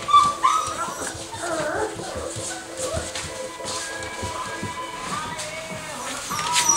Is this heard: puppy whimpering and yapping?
yes